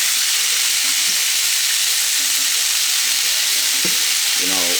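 Steak and onions fry in a hot pan with a loud, dense, continuous sizzle, with a few faint scrapes and clicks of utensils close by, and no talk.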